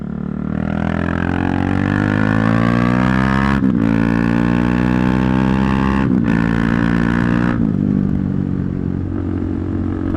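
A motorcycle engine roars loud and close while practicing small wheelies on private land, holding high revs with brief sharp dips when the throttle is cut, then settling lower at the end.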